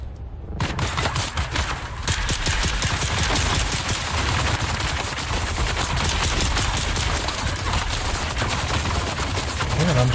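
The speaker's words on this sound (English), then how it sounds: "Why are you trying to shoot at me?" Enemy gunfire in Dune Awakening keeps up as dense, rapid automatic shooting that runs for about ten seconds without a break, loud and close.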